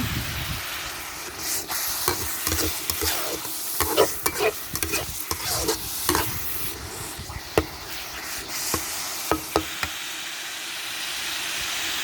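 Mackerel chili paste stir-fried in a pan for Thai nam prik pla tu, a continuous sizzling hiss with repeated scraping strokes and clacks of the spatula against the pan.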